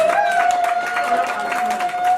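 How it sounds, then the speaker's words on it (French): Audience at a tribute event applauding, a dense patter of clapping throughout under a sustained tone, with voices mixed into the crowd noise. "organisée par le père Galbert et père Félix, que je demande des acclamations s'il vous plaît."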